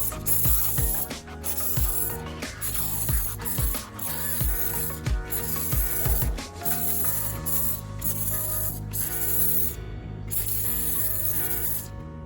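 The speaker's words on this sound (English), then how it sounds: "I start by foaming up the tire." A handheld foamer sprays Super Clean tire cleaner onto a car tire, a close hissing spray in repeated pumps and bursts with faint mechanical clicks between them.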